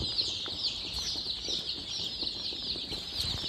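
Black Australorp and Rhode Island Red chicks in a brooder keep up a continuous high peeping chorus, a dense steady chirping from many birds close by, with no talk.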